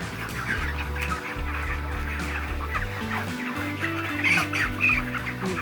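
A crowd of broiler chickens on a hot poultry farm clucks and squawks continuously, many birds calling over one another at close range with a steady fan-like hum underneath.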